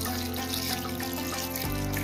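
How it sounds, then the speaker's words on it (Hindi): Water pours into a jug for mulberry juice, a brief, soft, steady trickle and splash of liquid with no talk. "अब हम जग में पानी ऐड करेंगे।"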